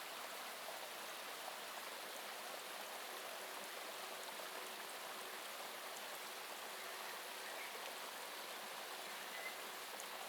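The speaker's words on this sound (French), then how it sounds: "Une grande rivière fougueuse." A large, rushing river pours past in a steady, broad roar of water, constant and fairly distant, with no voices over it.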